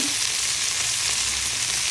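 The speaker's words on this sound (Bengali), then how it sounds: "দেশি মুরগি ভাজা হচ্ছে" Country chicken sizzles and fries in a pan, a steady, close, dense crackle that continues without pause.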